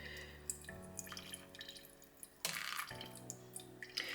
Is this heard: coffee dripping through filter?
yes